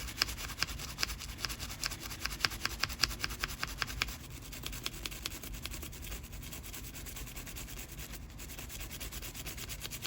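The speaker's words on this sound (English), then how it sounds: "You just gotta scrape off the old paint" Old paint is being scraped off a plastic scale model with a quiet, dry rubbing sound. Quick repeated strokes come first, then a steadier, softer scrape, with no talking.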